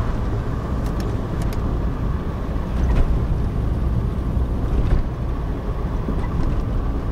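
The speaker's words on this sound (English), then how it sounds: "I propose to drive up that hill in top gear with 3/4 of a tonne of firewood on board." Car climbing a hill in top gear while loaded with about three quarters of a tonne of firewood, giving a steady, close engine and road drone with light wind buffeting throughout and no pauses.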